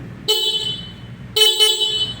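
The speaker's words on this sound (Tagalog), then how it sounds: "check naman natin yung kanyang horn. Malakas po ang kanyang horn." Horn of a Suzuki Raider J Crossover 115 motorcycle, sounded in two loud, close toots, the second a little longer with a brief stutter.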